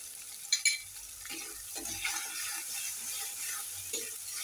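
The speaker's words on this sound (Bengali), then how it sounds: "পেঁয়াজ বাটা রসুন বাটা আদা বাটা দিয়ে ভালো করে ভেজে নিয়েছি, মশলা দিয়ে একটু ভাজা ভাজা ঘিরান বেরোচ্ছে।" Onion, garlic and ginger pastes with spices frying in a pan for a Bengali shrimp curry: a faint, steady sizzle with a few soft scrapes of stirring and a couple of brief clinks, no talk.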